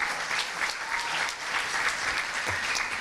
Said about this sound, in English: a big round of applause to Holly Church-Doyle, who's our executive director